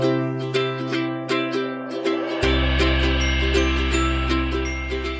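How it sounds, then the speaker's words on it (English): Bright, plucky ukulele music with light chiming glockenspiel notes over a steady strummed bass line, playing continuously and cheerfully at moderate volume. "Did you think ukulele and glockenspiel?"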